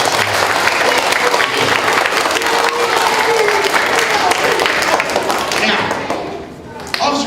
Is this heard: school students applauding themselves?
yes